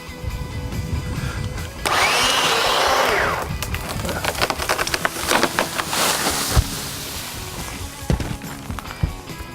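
A cut tree falls onto a fence with a loud rush of crackling and splintering wood, followed by scattered snaps and knocks as branches settle, with no voices.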